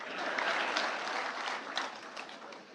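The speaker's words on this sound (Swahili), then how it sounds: "Makofi kwangu basi." An audience claps at a pastoralist leadership summit, a dense, steady burst of applause from a crowd, moderately loud and continuous, with no voices standing out.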